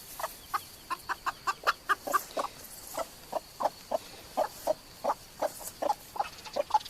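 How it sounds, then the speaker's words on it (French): A broody hen gives a long series of short, evenly spaced, nasal clucking cries, close and fairly quiet, repeating in a steady rhythm. "Vous entendez le cri caractéristique de la poule qui couve, hein, qui est couveuse"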